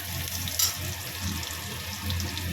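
Tomatoes frying in hot oil in a pan with green chillies, a soft continuous sizzle with faint bubbling and a few light clinks, no voices.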